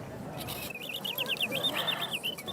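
Birdsong: quick, high chirping phrases repeat steadily over a soft, low background murmur.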